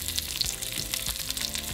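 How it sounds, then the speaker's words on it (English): Chopped onions, serrano chiles and garlic cloves fry in hot vegetable oil, giving a steady close sizzle with crackling pops and occasional soft stirring knocks. "And now we're going to fry our onions, chile serranos,"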